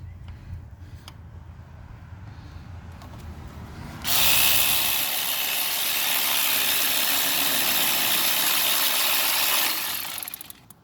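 Ratchet tightening bolts on a water pump during an engine repair, a few quiet clicks at first, then a long stretch of loud, rapid, continuous ratcheting before it stops near the end.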